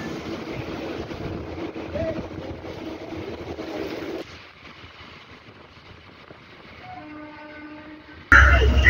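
A passenger train pulls out of Peddavatlapudi railway station on the Vijayawada to Tenali line, a loud rumble of wheels and carriages that drops away midway, a horn-like tone rising near the end, then a sudden loud burst.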